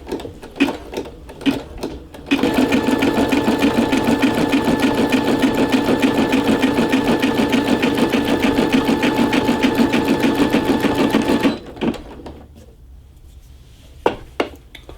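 A Brother SE625 embroidery machine stitches with a loud, steady, rapid mechanical whir for about nine seconds, then stops, with a few clicks and handling knocks before and after.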